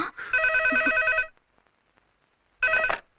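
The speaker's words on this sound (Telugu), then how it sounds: "అదిగో ఆయన ఫోన్" A telephone rings in two electronic trilling bursts, a long ring followed by a pause and then a second ring, loud and close with silence between.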